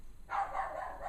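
A dog barks continuously for about a second, mid-distance and fairly steady, just after a brief quiet moment in a home workshop setting.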